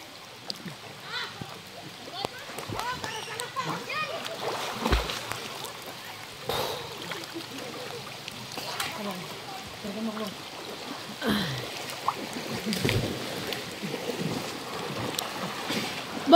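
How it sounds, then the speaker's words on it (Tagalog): Steady hiss of heavy rain with water splashing, while people talk and call out over the downpour. "Lakas ng ulan, no?"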